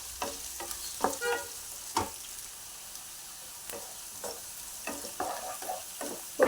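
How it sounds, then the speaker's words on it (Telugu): Chopped onion frying in oil with half a teaspoon of salt, a faint steady sizzle broken by irregular clicks and scrapes of a spoon stirring the pan, with no talking. "ఉల్లిపాయ త్వరగా వేగడానికి 1/2 టీ స్పూన్ ఉప్పు"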